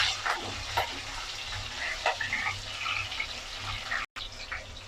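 Green chillies and garlic frying in hot oil for a potato masala, a steady close crackling sizzle with soft stirring scrapes and no talk.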